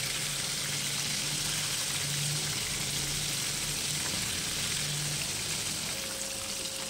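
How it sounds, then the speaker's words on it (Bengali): Pieces of flour-coated homemade fried chicken sizzle in hot oil over a raised gas flame, a steady, even hiss that holds throughout with faint bubbling underneath and no talking. "যখন অর্ধ ভাজা হয়ে আসবে তখন গ্যাসের ফ্লেমটাকে বাড়িয়ে দিয়ে এটাকে ফ্রাই করে নেবে"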